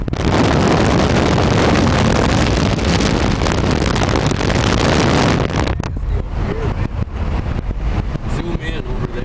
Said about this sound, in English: You can just hear the wind.